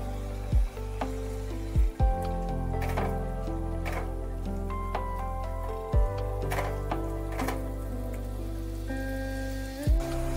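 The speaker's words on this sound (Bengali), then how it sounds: "এটা এবার একটু তেলের সাথে ভালোভাবে কষিয়ে নিতে হবে।" Onion paste and tomato fry in hot oil for a dry potato curry, a steady close sizzle running throughout over a tonal background, with a few sharp low knocks from the pan.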